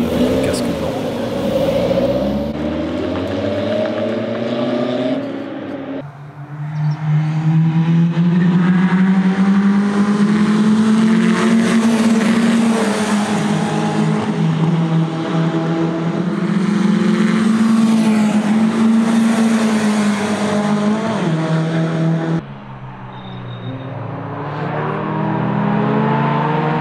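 Rally car driving hard on a track, its engine revving and droning through gear changes, loud and close from inside the cabin, with brief drops between runs and voices talking over it at times.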